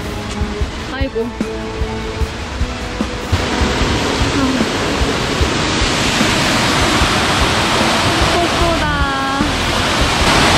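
Waterfall at Rolley Lake near Vancouver, a loud, steady, close rushing roar of falling water that fills the scene, with a voice briefly heard over it.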